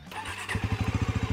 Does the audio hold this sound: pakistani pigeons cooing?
no